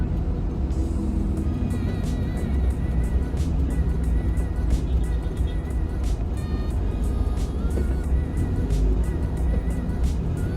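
A car pulls out of a subdivision and crosses an intersection, with a steady engine and road rumble heard from inside the cabin, continuous and fairly loud throughout.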